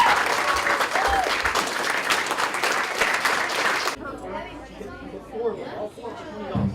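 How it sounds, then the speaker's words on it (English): Audience applause for a martial arts grandmaster at a Tae Kwon Do event, a loud dense burst of clapping that cuts off abruptly, followed by people talking and crowd chatter. "everybody give Grandmaster Jhoon Rhee a round of applause, please"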